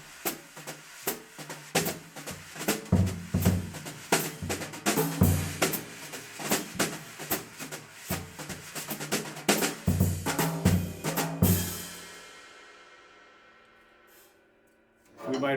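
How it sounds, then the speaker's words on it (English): Drums played with brushes in a 4/4 swing feel for a jazz audition, a soft steady pulse of swishes and light taps with occasional accents, closing on a fading cymbal wash. "We'll also be looking to hear you play a little bit with some brushes."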